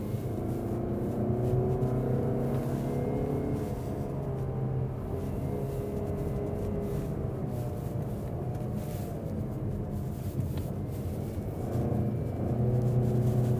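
A 2023 Mazda CX-30 in sport mode climbs through switchbacks, heard from inside the cabin as a steady low engine drone whose pitch rises and falls as the gears are held, with a constant rumble of road noise.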